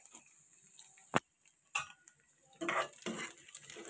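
Dried chillies stirred in a cooking pot with a utensil, a few sharp scraping clacks and a short rustling shuffle, close and fairly quiet with gaps between strokes.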